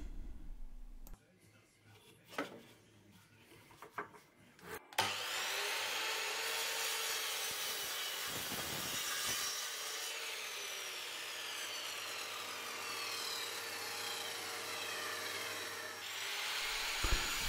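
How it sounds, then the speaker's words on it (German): A handsaw cuts through wood while building a nest box, starting with a few scattered knocks and then a steady rasping stroke sound that continues for over ten seconds, close and fairly quiet. "Am Boden säge ich die Ecken weg"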